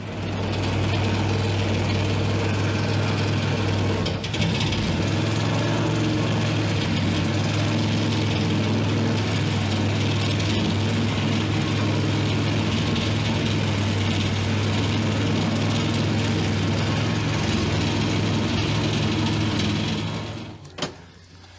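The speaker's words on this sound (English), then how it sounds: "cut the top of it with the sawzall. As you saw, it was pretty loud and obnoxious." A Sawzall reciprocating saw cuts steadily through the top of a leaking fuel tank in a fishing boat, a loud, continuous buzzing drone with a strong low hum that runs nearly unbroken for about twenty seconds before stopping.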